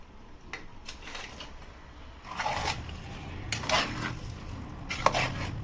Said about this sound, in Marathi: Time to drop in the chicken.